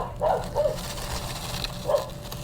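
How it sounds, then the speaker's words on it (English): A neighbor's dog barks a few times in the background outdoors during garden repotting, with three muffled, moderately distant woofs spread over a couple of seconds. "Apologies on my neighbor's dog."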